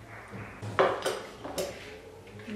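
Eggs, oil and warm milk are mixed in a bowl for a soft pizza-style dough, making a few close clinks and scraping stirs that are faint and brief.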